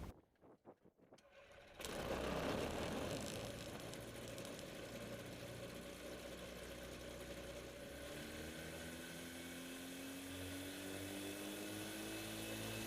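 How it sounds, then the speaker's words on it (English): A small ultralight aircraft engine on a ski-equipped Chinook Plus 2 coughs through a few uneven starting pulses, then catches and settles into a steady, loud, buzzing idle that continues close by. "he starts up the engine and gets us ready for takeoff"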